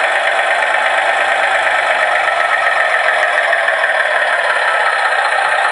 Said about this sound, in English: If we now turn the volume up, the little motor goes,